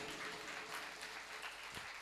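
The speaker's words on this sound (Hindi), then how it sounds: "अब एक बार दोनों हाथ ऊपर उठा करके जोरदार तालियां सबके लिए अभिनंदन के लिए।" Steady applause from a crowd at a Bhagwat Katha religious gathering, a continuous dense patter of many hands lasting throughout at moderate level.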